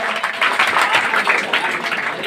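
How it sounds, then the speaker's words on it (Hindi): Steady applause from an audience at an award ceremony held by a coaching centre honouring Bihar Board Class 10 and 12 toppers, dense clapping sustained throughout without pause. "तालियां बजती रहनी चाहिए,"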